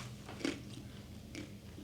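Biting into a crunchy roasted chickpea coated with coconut and raspberry, two crisp crunches close to the mic, followed by quieter chewing.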